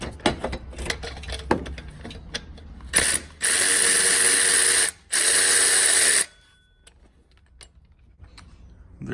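A ratchet wrench with a 12 mm deep socket and short extension works a bolt loose during AC compressor removal on a 2006-2011 Honda Civic 1.8L, first with a few scattered clicks, then two long, loud, fast bursts of ratcheting up close.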